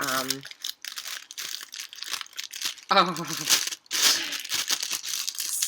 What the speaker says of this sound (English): it's all packed in this little plastic bag